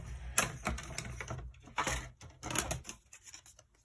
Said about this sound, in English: So I've got my Stampin' Cut Mini off to the side, so I'm going to run it through.